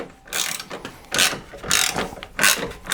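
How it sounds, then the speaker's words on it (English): A ratchet clicks in four separate loud bursts with short pauses between them as a 10mm bolt is backed out of the grille of a wrecked 2000 Silverado 1500 truck, close up with no talk. "So we'll start with the 10mm screw or bolt."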